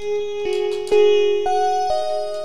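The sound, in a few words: reverb tail on MIDI notes in REAPER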